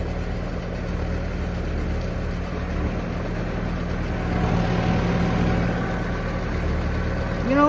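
Tractor-driven feed mixer on a small dairy farm rumbling steadily at idle, a low continuous engine drone with faint mechanical churning and no voices.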